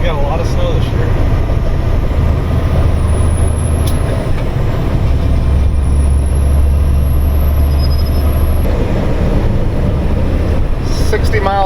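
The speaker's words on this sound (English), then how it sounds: "60 miles an hour down a gravel road in a truck." A truck runs at about 60 mph down a graded gravel road in snowmelt season, giving a constant loud rumble with heavy wind roar and people talking over it.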